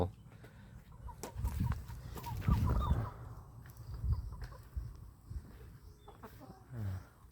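Chickens cluck and murmur close by in irregular bursts, with handling noises and a louder flurry of calls in the middle over a low background hum.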